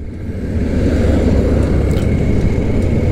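A single-cylinder motorcycle engine is under way on a ride, a loud, close, continuous rumble with a coarse pulsing texture, with no talking.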